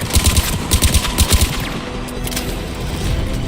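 Turret fire in Mass Effect Legendary Edition: rapid, loud bursts of automatic shots in quick clusters over the first second and a half, then a fading, rumbling tail.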